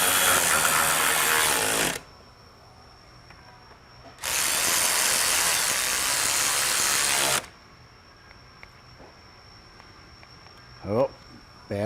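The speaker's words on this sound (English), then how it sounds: "We'll take the T40 and go ahead and tighten them up." A battery power tool drives T40 Torx fasteners into a belly pan on a Polaris snowmobile, two loud sustained bursts of buzzing whir separated by a quieter pause, with a brief voice near the end.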